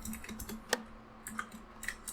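Computer keyboard typing of code, with quick, irregular soft key clicks and taps at close range against a faint hum, no voices.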